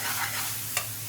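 Grated onion with salt cooks down in a pan with a steady, close sizzle, broken by two quick scraping strokes of stirring.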